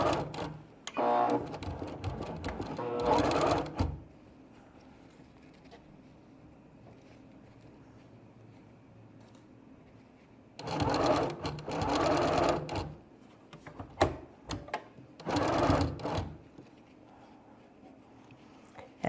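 A sewing machine stitches a gnome advent calendar piece, running in three bursts of rapid whirring with quiet pauses between, close and alone.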